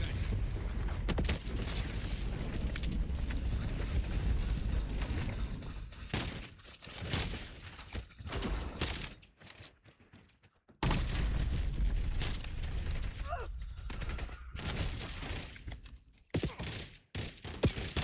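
Frag grenade blasts and other explosions in the video game Black Ops 7 come as loud, booming, crackling bursts. The bursts repeat amid continuous battle noise, with brief quieter gaps.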